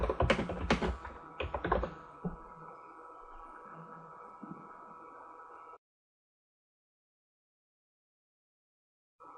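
Fast keystrokes on a computer keyboard at the start of the clip, close and crisp, then a steady hum until it goes silent.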